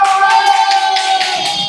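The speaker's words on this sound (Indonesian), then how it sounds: "tepuk tangan untuk Hafsah" Students in a classroom clap for a classmate, a short burst of quick scattered hand claps under a steady tonal hum, close and moderately loud.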